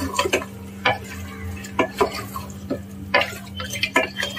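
Mutton pieces, some with liver, are stirred into a curry base in a pot. Close spoon scrapes and knocks against the metal repeat at an uneven rhythm over a soft steady hum, with a faint sizzle underneath.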